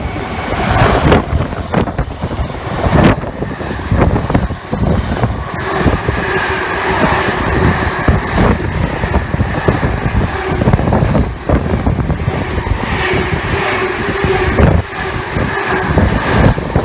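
Class 66 freight locomotive 66593 hauling a Freightliner train past Cheddington on the West Coast Main Line, a loud continuous rumble and roar of wagons rolling by, heavily buffeted by wind on the microphone.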